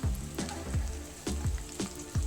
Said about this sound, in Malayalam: ഇനി അതിലേക്ക് നമുക്ക് പച്ചമുളക്, ഇഞ്ചി, വെളുത്തുള്ളി ചെറുതായി കട്ട് ചെയ്തത് ഇട്ട് കൊടുക്കാം കേട്ടോ.